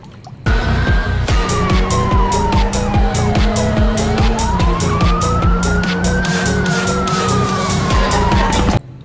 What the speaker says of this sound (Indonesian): Widi, ini mobil polisi.